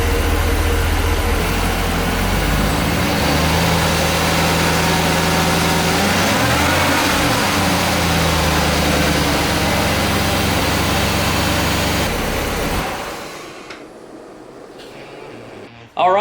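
A rough, low untuned pickup truck engine with an LT4 supercharger idles continuously at a steady rumble, then drops away near the end, leaving quieter background noise.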